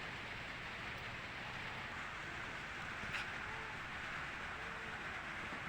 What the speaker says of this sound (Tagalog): Umuulan sa amin dito, Palawan.